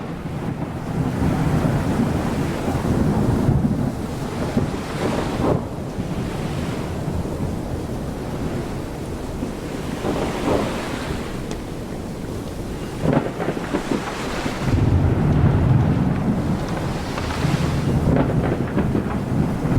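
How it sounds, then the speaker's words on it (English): Steady roar of wind and breaking waves on open water while sailing in the game Sail the Seas, with gusts swelling and surf surging in loud, continuous washes and no talk. "Get some more of that lovely wind then, as much as we can."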